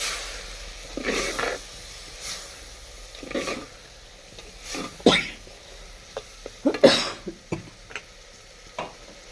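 Spices sauté in a clay pot on a gas stove, giving a soft, steady sizzle with intermittent scraping stir strokes and clinks close by, with no voices.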